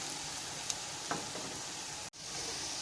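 Potatoes frying in a pan, a continuous soft sizzle with a couple of brief clinks, cutting off abruptly for an instant near the end before the sizzle resumes.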